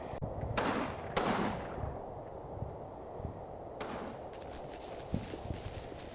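Sporadic gunfire in the World War II strategy game Combat Mission Final Blitzkrieg, with snipers among the shooters: a few sharp, distant cracks spread over several seconds against a low, steady battlefield rumble.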